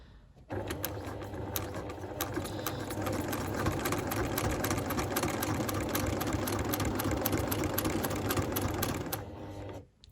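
A sewing machine hums steadily at close range during free-motion quilting guided by a taped ruler, running evenly for about nine seconds with a faint rhythmic clatter before stopping.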